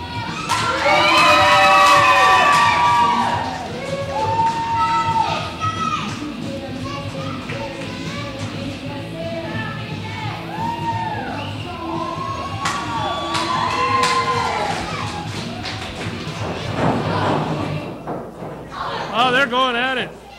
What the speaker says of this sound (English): This crowd loves them some Misty James, and they are going crazy already just at the sound of her music.